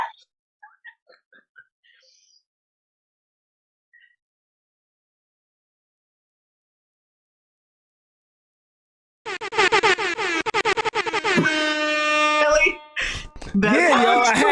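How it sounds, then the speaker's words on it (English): Air horn sound effect blasted after a moment of silence, loud repeated honking bursts with a stuttering rhythm that follow near-silence and a few faint clicks. "I had to end off the moment of silence with some motherfucking air horns"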